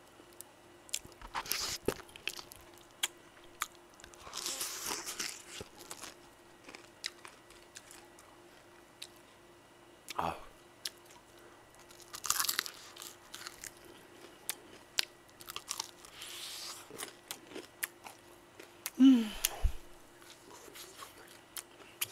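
Crispy fried chicken is bitten and chewed at close range, with loud bursts of crunching at irregular intervals between quieter chewing and faint mouth sounds, no talk.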